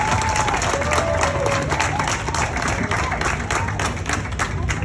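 Crowd applause at an outdoor Central American independence festival in Salt Lake City, Utah, a dense steady wash of clapping that holds loud throughout with faint cheering mixed in.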